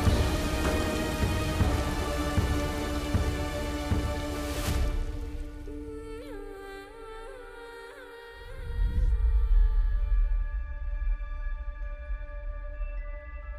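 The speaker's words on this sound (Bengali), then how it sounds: "আবার টিপটিপ করে বৃষ্টি নেমেছিল" A drizzling rain sound effect in a Bengali audio story, heard as a soft, steady patter with fading tonal music early on and a deep thunder-like rumble near the end.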